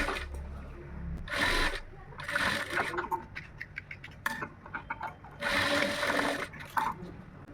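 A sewing machine runs in short bursts while stitching a lined blouse, the motor whirring in several spurts between pauses, with someone talking over and between the runs.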